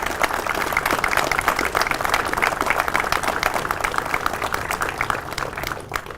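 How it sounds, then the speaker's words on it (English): A press conference crowd gives steady, sustained applause for Broken Arrow's new Chief of Police, many hands clapping in a dense, even wash that holds for several seconds before starting to fade. "let's give him a round of applause"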